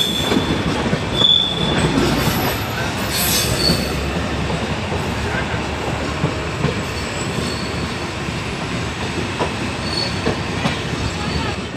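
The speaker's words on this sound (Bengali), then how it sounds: "আমাদের ট্রেনের ধীরে ধীরে গতি বাড়ছে" A passenger train rolls along the Dhaka rail line with rumbling wheels, squealing rails and a clickety-clack rhythm that builds as it gathers speed, steady and close throughout.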